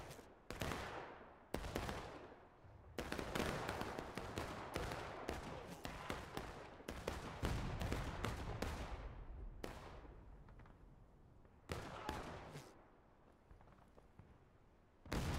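Musket fire rings out in the War of Rights video game, with many sharp reports, some near and some farther off, in an irregular volley that continues for several seconds.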